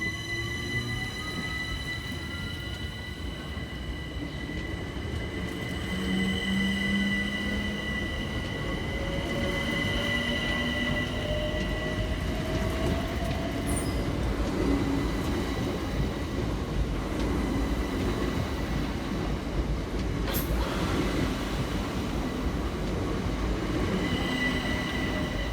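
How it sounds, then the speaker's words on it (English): Two coupled Southeastern Class 376 electric units, 376008 and 376031, pull away from Hayes station, with loud continuous traction whine and rising tones over a rolling rumble, plus a sharp clank about two thirds of the way through. "376008 and 376031 depart with the 1014 Southeastern service through to London Charing Cross"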